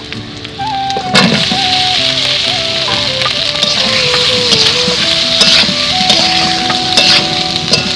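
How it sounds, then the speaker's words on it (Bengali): Taro stolons (kochur mukhi) hit a hot pan with turmeric and chilli powder, setting off a loud, steady sizzle and frying crackle that runs the whole time, with scraping stirring noises and a tonal whine in the background. "এখন আমি কচুর মুখি ঢেলে দেবো"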